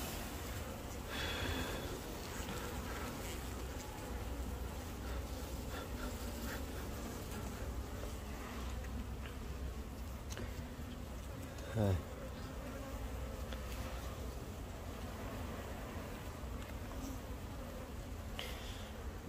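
A honey bee colony hums at the hive during preparation for the honey season, a dense continuous buzz with individual bees droning close by, steady and fairly quiet with a brief nearby flyby near the end.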